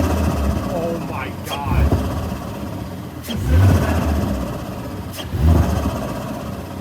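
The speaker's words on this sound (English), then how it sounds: "Do a light rev." Audi S5 B9 fitted with a 034 Motorsport P34 cold air intake gives three short, loud engine revs spaced a couple of seconds apart, each swelling and falling back to idle, while people talk and exclaim over it.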